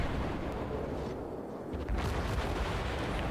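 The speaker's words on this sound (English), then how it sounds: "Took out a couple of his guns there. Another full salvo." The cruiser St Louis in World of Warships fires a full gun salvo, a dense roaring wall of booming cannon fire that swells again partway through, loud and sustained with no speech.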